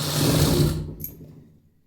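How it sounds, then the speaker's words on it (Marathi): A sewing machine runs a stitch along a katori blouse piece: a loud, close, steady mechanical whir that stops after a moment and trails off into quiet. "त्यानंतर आपण दुसरी टीप मारून घेऊया."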